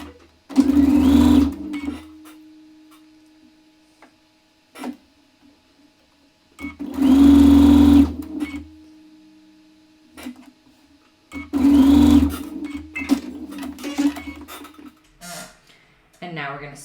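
Sewing machine stitching rows of a quilt together in three distinct bursts of rapid, buzzing mechanical running, each lasting about a second or two and separated by quiet pauses with fabric handling and small clicks; close and clear, and no one speaks.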